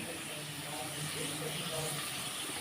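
Onion pieces frying in a pan for a jackfruit seed curry give a steady, broad hiss of sizzling oil that holds at an even level throughout, close and continuous.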